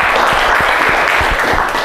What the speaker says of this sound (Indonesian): Ya, tepuk tangannya.